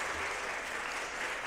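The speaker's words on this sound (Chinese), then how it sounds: "来拍手拍手拍手，欢迎你们" A church congregation claps in welcome for newly arrived visitors during a Sunday service, a faint, distant, steady wash of many hands blending into a soft continuous roar.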